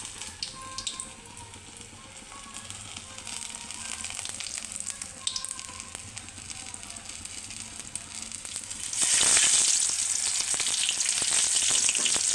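Ajwain leaves coated in gram flour batter dropped into hot oil, starting with a soft sizzle that suddenly bursts into loud, bubbling frying partway through and keeps crackling steadily to the end.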